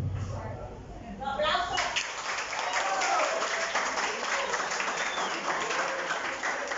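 Applause from a crowd at a school Independence Day event swells after a brief lead-in, steady clapping continuing at moderate volume to the end.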